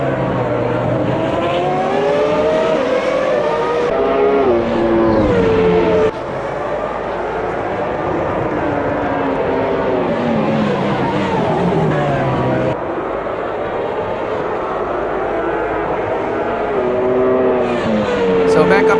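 Jordan Hart V10 race car engine from a racing video game at Road America, a loud sustained high-revving whine rising and falling through gear shifts, close and continuous with other cars around and a voice talking over it.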